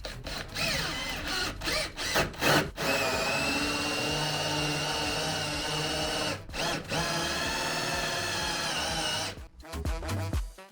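A power drill bores into a wooden piece for a bathroom build inside a converted bus: a long, steady, loud whir broken by a few short stops and restarts.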